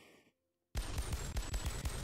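Rapid gunfire from a modded gun in a video game, resembling a Desert Eagle, starts abruptly after a brief silence and keeps up as a loud, dense string of shots.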